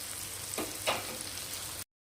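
Masala for chhana dalna with potatoes being sautéed in oil in a pan, a faint steady sizzle with two quick stirring scrapes, short and quiet with no talking.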